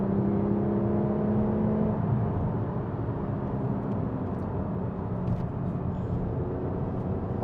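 Porsche 911 GT3 RS engine in PDK Sport mode, heard from inside as a sustained loud drone with a rising tone early on, then steady engine roar throughout.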